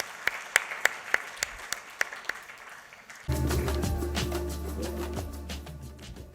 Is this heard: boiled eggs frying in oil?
no